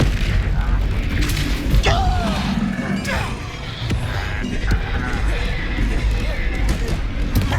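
Booming magical spell blasts in Hogwarts Legacy, a dense run of loud impacts and crashes layered over busy combat noise, with some speech-like voices mixed in.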